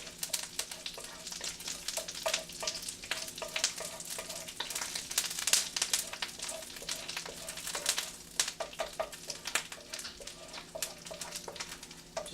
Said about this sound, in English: Just getting it hot, giving it a little fry